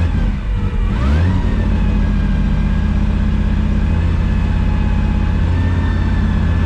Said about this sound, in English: I can without remorse come out here and rev my engine